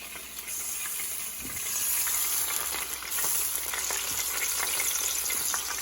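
Bacon and a hamburger patty sizzle on a Ninja Foodi indoor grill, a loud, dense, continuous crackling hiss with scattered sharp fat pops, steady throughout with no talking.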